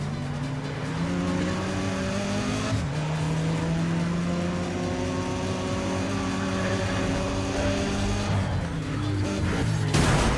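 A BMW race car in Need for Speed ProStreet roars continuously up close, its engine pitch climbing and dropping through gear changes, with a brief tire squeal and a sharp impact near the end.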